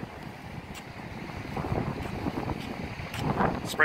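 Gusty wind buffets the microphone at a roadside rest stop, rising and falling in uneven rushes that grow stronger toward the end, with no talking.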